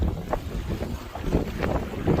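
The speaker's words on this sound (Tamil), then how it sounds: "காற்று கொஞ்சம் அதிகமாக தான் இருக்கு." Strong wind buffets the microphone aboard a small fishing boat at sea while catching squid, a steady low roaring rush with gusty swells and no talk.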